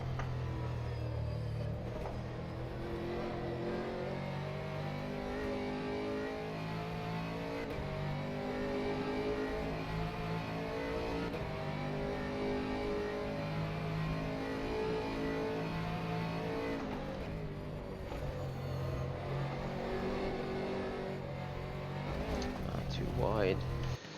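An Aston Martin Vantage GT3 circles the Sebring road course in a racing video game, its engine note climbing and dropping through gear changes and braking, with talk running over it throughout.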